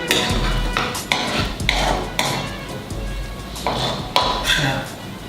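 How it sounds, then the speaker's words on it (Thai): Lemongrass being stir-fried in hot oil in a pan, with repeated metallic scrapes and clanks of a utensil against the pan in an irregular rhythm, close and fairly loud over a low background. "ตอนนี้น้ำมันร้อนอยู่แล้วผัดต่อไปนิดนึง"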